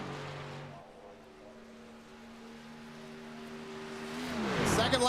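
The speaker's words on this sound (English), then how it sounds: "You hear him kill the engine" A race car engine in a Charlotte Motor Speedway racing video game hums steadily, then cuts off near the end, followed by a louder rising whoosh of another car passing close by.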